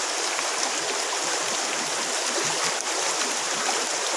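Running water pours steadily over freshwater algae in an open-weave basket as stones and sand are rinsed out, a loud, constant close rushing splash with no pause for the whole stretch.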